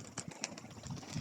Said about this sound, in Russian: Полетали голуби.